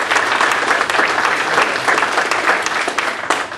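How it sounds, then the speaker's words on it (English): An audience at a forum for Pennsylvania 134th State Representative candidates gives a loud, dense round of applause that holds steady and tapers slightly near the end, with no speech over it. "How about we give them a round of applause?"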